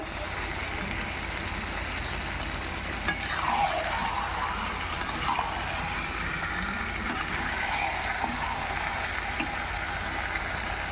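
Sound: chicken being sautéed in a pan

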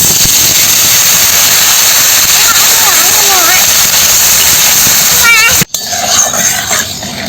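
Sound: water poured into a hot pan of potatoes, sizzling

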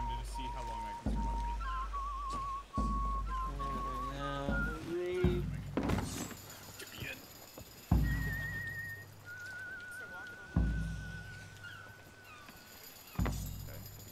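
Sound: whistling sound underwater in a video game

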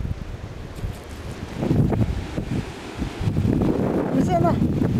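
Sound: strong gust of wind

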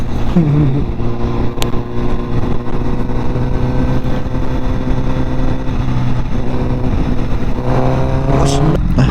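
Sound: Honda CBR1000RR motorcycle riding in second gear

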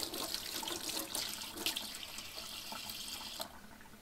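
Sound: running water from a tap in a video game

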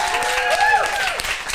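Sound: audience applause welcoming a guest

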